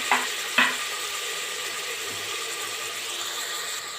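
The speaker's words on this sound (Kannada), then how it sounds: "ಸ್ವಲ್ಪ ಫ್ರೈ ಮಾಡ್ಕೊಳ್ಳೋಣ." Mushroom masala frying in a pan, a soft, even sizzle that fills the background, opened by two brief utensil clinks, with no one speaking.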